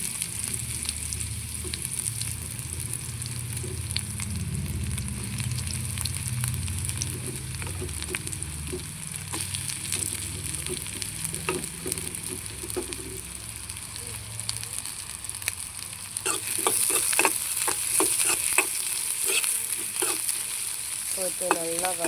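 Sliced large onions frying and being stirred in hot homemade wood-pressed sesame oil, a soft steady sizzle with a low bubbling undertone, then sharper scraping stirs near the end.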